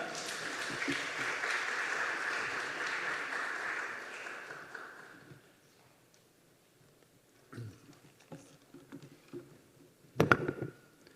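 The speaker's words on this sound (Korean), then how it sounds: "나오실 때 우리 박수로 격려 환영하겠습니다" A church congregation applauds to welcome the pastor. The dense clapping lasts about five seconds and fades to near silence, followed by a few scattered knocks and thumps.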